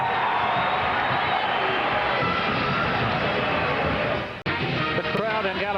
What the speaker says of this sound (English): The crowd in Gallagher-Iba is standing in anticipation.